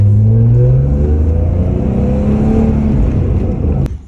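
A 1993 BMW E36 325i on a test drive, its engine holding a steady, loud drone with a low rumble throughout, easing off and dropping away near the end.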